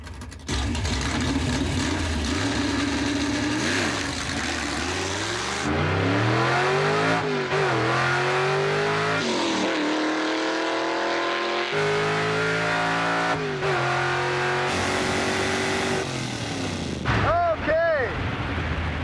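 A 1956 Chevy launches hard off a drag strip starting line, its engine roaring loud and close as the revs climb and fall through rising gear sweeps, with popping bangs and a crowd cheering near the end.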